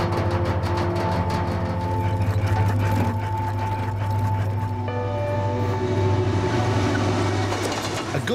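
A 1.7-mile-long coal train rattles through an outback town, loud rhythmic clatter of wheels and wagons with a steady low rumble and metallic squeals, passing close and continuously without voices.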